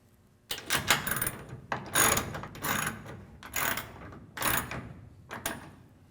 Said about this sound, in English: you can now tighten the rails down to the tailgate clamps only